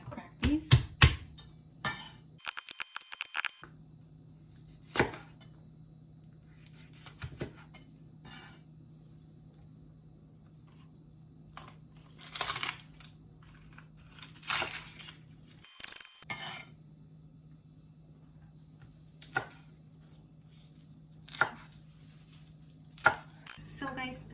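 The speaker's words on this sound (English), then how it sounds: "I'm gonna just cut my pimento pepper in small pieces" Knife chopping pimento pepper into small pieces on a cutting board, scattered bursts of sharp taps separated by pauses, with a steady low hum underneath.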